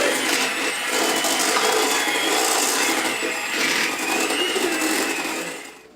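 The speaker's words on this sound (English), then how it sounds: "now you're gonna turn your mixer on and mix all your ingredients together" Electric mixer whirring steadily through cornbread batter of mixed dry and wet ingredients, a continuous close, loud buzz that fades out at the end.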